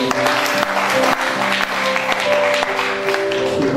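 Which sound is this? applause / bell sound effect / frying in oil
applause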